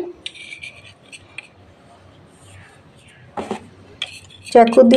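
A knife scraping and prying sticky date-filled dough for eggless date rolls, giving scattered metallic scrapes and taps with a louder clinking burst near the end, under a soft voice.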